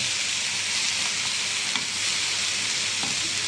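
Sprouted bean stir-fry turned over in a hot pan, continuous loud sizzle with a couple of light spatula knocks, close and alone without talk.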